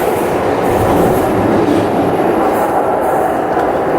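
A Glasgow Subway train rumbles steadily along the rails as it leaves a station, a continuous low roar with a faint rhythmic clatter of wheels, loud and close throughout.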